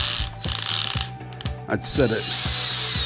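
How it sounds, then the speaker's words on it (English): A cordless drill fitted with a T20 Torx bit on its low setting drives screws into a Magicycle Cruiser, its clutch ratcheting in steady rapid clicks over about three seconds, close and loud, with a brief spoken word partway through. "I've got my drill here with my T20 torque on it"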